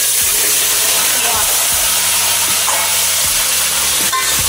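Crab sizzles in hot oil in a pan for a crab curry, a loud, steady hissing crackle throughout with faint clinks of a utensil beneath.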